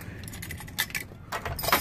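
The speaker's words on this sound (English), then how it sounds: "Dropping the keys." A bright metallic jingle of U-Haul truck keys dropped, hitting and rattling in a couple of short clusters, close by with a faint engine hum underneath.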